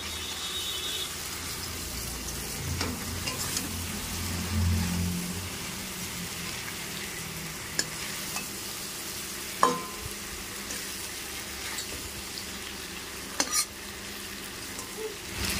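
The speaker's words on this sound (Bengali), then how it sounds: "মাছ আর আলু দিয়ে মশলার সাথে একটু কষে নিচ্ছি" Pre-fried fish and potatoes being stir-fried with masala in a pan, a steady close sizzle punctuated by sharp spatula scrapes and clacks against the pan at irregular intervals, with no talking.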